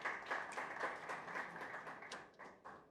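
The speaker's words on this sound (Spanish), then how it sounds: "Un aplauso." An audience applauds as a volunteer from the sports field is invited up at a talk; dense, steady clapping fills the whole stretch at moderate volume with no voices over it.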